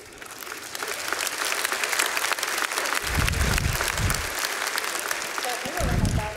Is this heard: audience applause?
yes